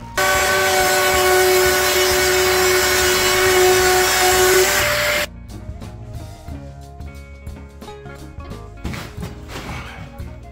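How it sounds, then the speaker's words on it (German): A router cuts a 5 mm deeper rebate pass in beech heartwood, a loud, steady high whine that stops abruptly halfway, leaving quieter workshop sounds and knocks. "ich gehe jetzt hier nochmal 5 mm mit dem Fräser nach unten und fräse noch ein zweites Mal hier"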